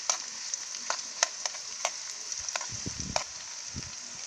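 Dumplings frying in a pot over an outdoor fire give a continuous high sizzle, punctuated by sharp pops and crackles and a few low stirring knocks, close and fairly loud.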